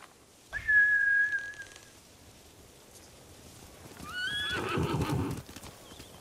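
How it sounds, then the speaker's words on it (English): Horses in the video game Ghost of Tsushima: a shrill whinny rings out early, followed after a lull by another louder neigh with snorting and hoof movement, mid-distance and without talk. "Bastards scared off the horses."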